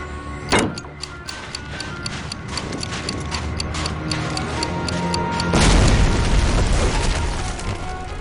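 In Medal of Honor Allied Assault, a placed explosive charge ticks with a steady mechanical clicking before a loud, deep blast bursts the gate open partway through, followed by a lingering rumble.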